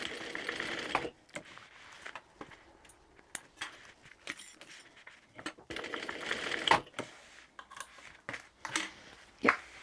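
A sewing machine basting fabric for a tote bag runs in short bursts of rapid stitching, separated by pauses, clicks and handling noises, fairly close and moderately loud.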